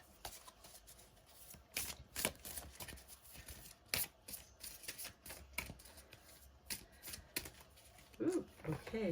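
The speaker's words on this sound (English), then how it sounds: "let's shuffle you some Divine Tea cards" Divine Tea oracle cards are shuffled by hand close to the mic, making soft, uneven bursts of papery riffling and slapping in a quiet room, with a brief voice near the end.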